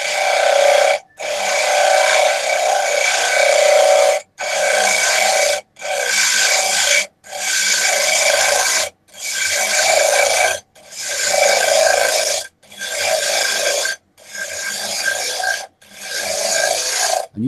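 A woodturning cutter scrapes a spinning piece of wood as it grows thinner, giving loud raspy bursts in a steady run of about ten strokes, each broken by a short pause.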